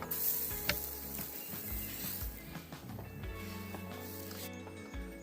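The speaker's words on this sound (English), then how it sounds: "got the potatoes going. We'll let these get frying." Potatoes fry in a pan at a car camping site by the Menomonie River, giving a steady, close crackling sizzle with occasional stirring scrapes.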